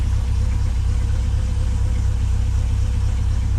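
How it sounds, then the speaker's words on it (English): A 1970 Ford F350 truck engine idles steadily up close, a deep, even low rumble with no breaks or revving. "the 1970 F350 is purring away. Sounds pretty good."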